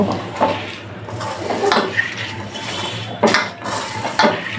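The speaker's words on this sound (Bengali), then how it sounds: "এবারে সাদা তেল দিয়ে দিব সয়াবিন তেল এখন সবগুলো একত্রে মেখে নেব" Fish and cauliflower are mixed by hand with soybean oil in a metal pot or bowl, giving close scraping, clinking and squelching bursts with scattered utensil taps.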